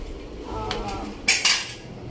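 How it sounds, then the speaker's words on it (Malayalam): Opening a pressure cooker of rice produces a few sharp metallic clinks and clatters of lid and utensil, close and brief, with no voices. "റൈസ് നമുക്ക് ഒന്ന് ജസ്റ്റ് ഓപ്പൺ ചെയ്ത് നോക്കാം കേട്ടോ കുക്കർ"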